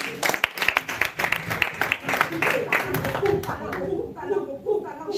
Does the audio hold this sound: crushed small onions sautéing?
no